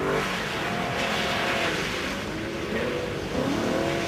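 A BMW M3 race car coming down to begin a lap of a circuit, its engine a loud, continuous roar with shifting pitch and steady intensity.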